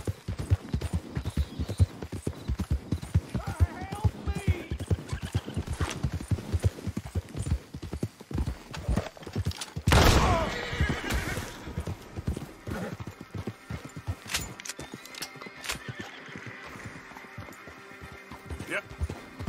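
A horse in Red Dead Redemption 2 gallops with rapid, close clip-clop hoofbeats, then gives a loud whinny partway through before the hooves continue, under occasional talk.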